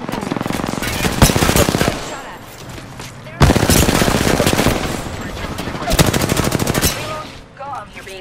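Automatic gunfire in a video game shooter, loud close bursts of rapid rattling shots in three separate volleys with short pauses between, dense and harsh.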